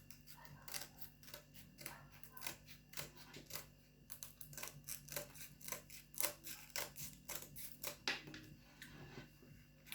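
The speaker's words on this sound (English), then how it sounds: "get the scissors on there so we can cut this off" Scissors snip repeatedly in quick, uneven clicks, close and quiet, cutting velcro backing off a detail sander pad, with a faint steady hum underneath.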